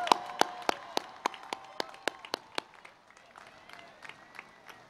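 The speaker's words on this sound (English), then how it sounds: "Let's give them a round of applause." Sparse, thinning applause from an audience at a university commencement ceremony: scattered individual claps, fairly quiet and distant, fading out after a few seconds.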